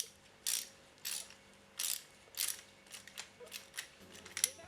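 A ratchet socket wrench clicks in short bursts as it tightens the oil filter cover on a KTM Duke 390 motorcycle, about eight close, crisp ratcheting strokes with brief pauses between them and no talking.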